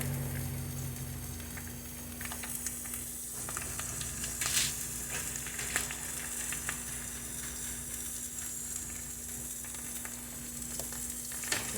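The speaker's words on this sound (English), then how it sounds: "So I dip them in the wet wash, and then I dip them in the oil." Battered mozzarella sticks fry in hot oil, giving a soft, steady close sizzle with scattered pops and crackles over a faint constant hum, and no talking.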